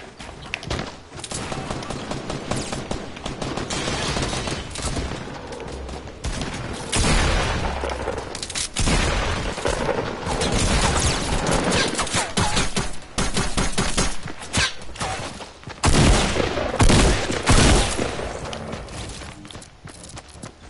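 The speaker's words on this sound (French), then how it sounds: "Alors j'entends des tirs" Sustained heavy gunfire in a Fortnite match, with dense rapid automatic bursts and shots running almost continuously at high volume and no talking over them.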